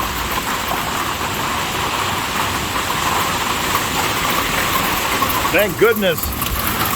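Torrential rain with hail hammers down as a dense, loud, constant roar throughout, with a person speaking briefly over it near the end.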